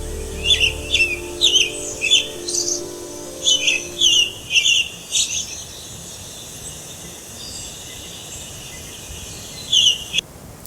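A clear, bright American robin song played from a phone app: repeated short chirping phrases, evenly spaced, over a soft hum, then a pause and one final phrase.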